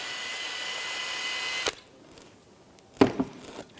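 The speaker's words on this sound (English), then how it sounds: "We're going to use a small bore brush on our drill" A power drill whines steadily up close as it spins a small bore brush inside the brake cylinder of a 2008-2013 Nissan Rogue rear brake. It runs for about a second and a half, stops abruptly, and is followed by a few brief clatters.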